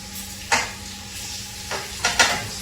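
Bacon frying in a pan alongside country potatoes, with a steady low sizzle under a few sharp clinks and scrapes of a utensil turning the strips.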